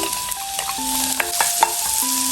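Onion stir-fries in a spoonful of cooking oil, a bright steady sizzle with a few scraping stirs, alongside a tonal melody of background music, no talking.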